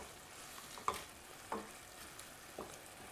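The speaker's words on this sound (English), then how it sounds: "Now I'm going to stir it." A spoon stirs marinara sauce in a pan, making a few quiet, spaced scrapes and taps against a soft, low background, with no voices.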